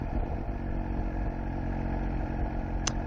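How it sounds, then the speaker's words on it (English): A steady motorcycle engine in a high gear hums at a constant, relaxed pace with no revving, accompanied by a low rumble of road and wind noise. "I can just take a higher gear and rest the engine and just let the bike relax"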